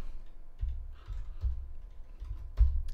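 Numbers typed on a computer keyboard in a quiet room: a handful of soft, irregular key taps spaced through a few seconds, with no speech.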